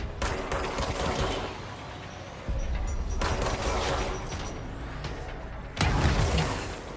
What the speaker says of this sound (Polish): Nikt mnie nie uprzedzał, że tu jakieś granaty zaraz będą wybuchać.